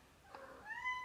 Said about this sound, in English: this is again my cat, and I'm very sorry, she just wants to go